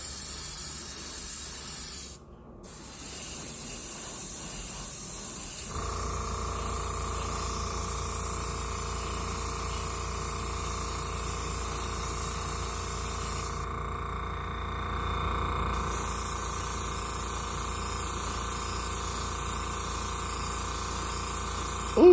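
Spray gun painting the floor pan of a 1968 Dodge Dart, a steady continuous hiss held at close range for most of the clip, with a brief break near the start.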